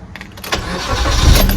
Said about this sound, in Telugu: సో ఇప్పుడైతే ఇంజన్ అయితే స్టార్ట్ చేస్తున్నా.